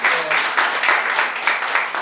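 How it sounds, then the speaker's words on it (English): An audience claps steadily throughout at a Ward 3 city council candidate forum in Clarksville, a dense, fairly loud wash of hands with faint voices mixed in. "Let's give them all a big round of applause."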